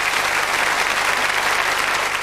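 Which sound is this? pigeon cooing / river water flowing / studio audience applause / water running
studio audience applause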